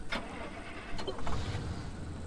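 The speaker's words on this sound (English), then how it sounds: "Start the engine." A car engine in the survival driving game Pacific Drive cranking and catching, a short low rumble swelling over about two seconds, steady and close.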